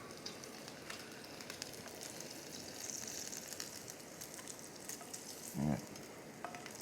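Bacon fries in a small pan on a lightweight titanium Jetboil MiniMo backpacking stove, giving a soft, steady crackling sizzle close by, with one brief dull knock near the end and no speech.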